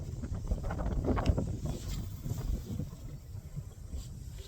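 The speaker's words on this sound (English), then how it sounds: "Wind's blowing pretty good this morning." Morning wind gusts along the shore of Oneida Lake as a low, rumbling buffeting roar with moderate, continuous loudness and no speech.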